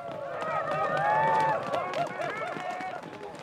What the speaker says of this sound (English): I want to hear your clapping and shouting